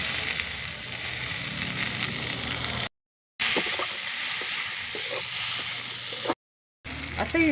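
Tomatoes drop into onions already frying over a wood-fired stove, giving a loud, bright sizzle and hiss that runs on steadily, cut by two short silent gaps, with light stirring knocks near the end.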